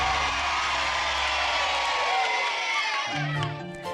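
An assembled crowd cheers and applauds in a steady, loud wash of whoops and clapping, with music and voices layered over it before the cheering tapers off near the end.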